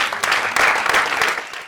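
Audience applause at a comedy show: dense, steady clapping from a crowd, loud and continuous for under two seconds.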